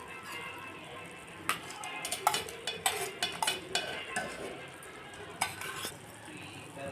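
Carrot halwa cooked with jaggery being stirred in a pan over a low flame, a soft sizzle underneath with a run of near, clicking scrapes and knocks of the spoon against the pan.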